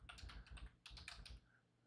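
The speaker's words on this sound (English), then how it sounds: "I'm going to type it in here for you." Fingers tapping out an email address on a computer keyboard, giving a quick, close run of light clicky keystrokes in two bursts with a short pause between them.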